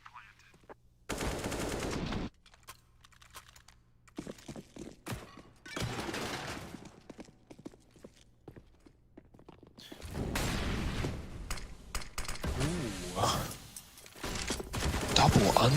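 Automatic AK rifle fire in a professional Counter-Strike match, with repeated loud bursts and shots in a busy exchange, plus thuds and game effects and a caster voice faintly underneath.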